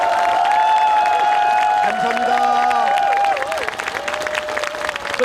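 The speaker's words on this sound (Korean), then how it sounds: "박수를 한번 크게 올려주십시오." Audience applause rises as a broad wash of clapping beneath a held musical tone, while a voice briefly speaks over the crowd near the end.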